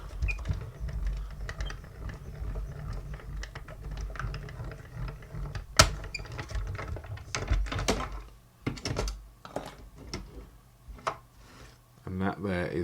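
A die-cutting machine cranks a sheet of card through its rollers, giving a steady low rumbling grind for several seconds, broken by scattered clicks and taps and ending in a few separate knocks.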